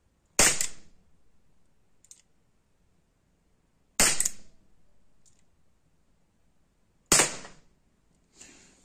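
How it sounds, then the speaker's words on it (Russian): Three sharp shots from an SAS P 210 airsoft blowback pistol at a paper target, spaced a few seconds apart, each a crisp snap followed by a faint mechanical click, close and loud in a quiet space. "Давайте по бумажке 3 выстрела сделаем."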